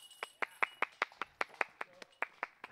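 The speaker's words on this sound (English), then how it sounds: "getting the claps from his Team Finland teammate" A teammate claps at a disc golf event: about a dozen crisp, evenly spaced hand claps in a quick steady rhythm, fairly close and alone against a quiet outdoor background.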